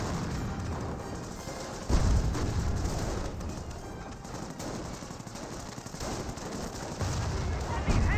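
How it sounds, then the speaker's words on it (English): Gunfire from the Company of Heroes 1 video game rattles through a battle, with bursts of machine-gun and rifle fire aimed at a Wehrmacht Grenadier squad, loud and continuous with a few sharper jolts. "Grenadiers are seeing quite a bit of fire there"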